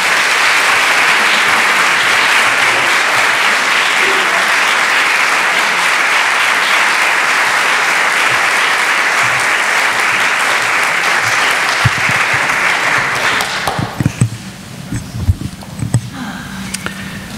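An audience at a talk applauds to welcome speaker John Philip Newell with sustained, dense clapping that fills the room for about fourteen seconds, then fades into scattered claps and movement.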